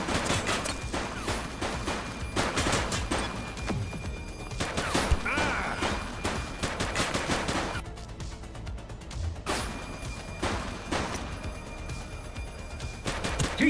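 Gunfire in The Precinct video game rings out as repeated loud sharp shots, with single cracks and short bursts spread across the stretch over a busy background, some heavier bangs among them.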